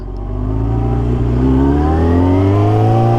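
A car engine revs up steadily and holds a high, straining pitch, close and loud, while a worn clutch is slow to engage.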